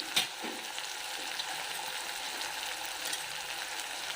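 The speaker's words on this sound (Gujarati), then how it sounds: "હવે થોડી વાર આપણે સાતળવા દઈશું આને." Chopped tomatoes sautéing in a pan on a gas stove for a Saurashtra green oro recipe, giving a steady close crackling sizzle with a brief clatter at the start, no talking.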